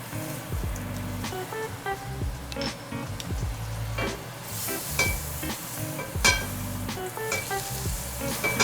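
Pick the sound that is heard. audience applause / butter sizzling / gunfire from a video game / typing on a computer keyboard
butter sizzling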